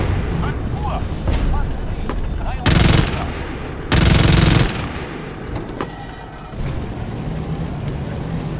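Bursts of a tank's machine gun in a single-player video game, two loud sustained volleys of rapid fire standing out over continuous battle noise and engine rumble, with faint lighter shots scattered between.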